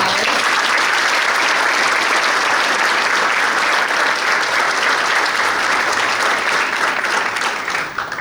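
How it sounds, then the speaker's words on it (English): A conference audience claps steadily for a panel, sustained applause that continues without a break and tapers slightly at the end. "I would like to ask you for a round of applause for our great panelists"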